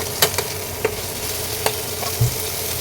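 Onions frying until reddish in a pan with a soft steady sizzle, punctuated by a few sharp scrapes and taps of a spoon stirring.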